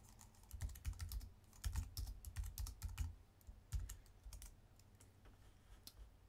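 Keys clatter on a computer keyboard in quick irregular bursts with short pauses, close and fairly quiet, no voices.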